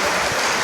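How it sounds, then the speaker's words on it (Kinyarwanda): A church congregation claps and ululates, a dense, steady wash of applause throughout the short moment. "Tugukomeye amashyi n'impundu nyinshi."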